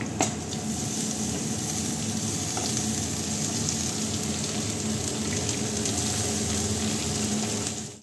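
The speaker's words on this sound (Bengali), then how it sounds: "এবারে আমি এর মধ্যে যে লাল শাকটা কুচিয়ে রেখেছিলাম, সেই লাল শাকটা আমি এর মধ্যে দিয়ে দেবো।" Chopped red amaranth leaves fry in a wok over browned onion, giving a dense, steady, close sizzling hiss that holds evenly throughout with no talking.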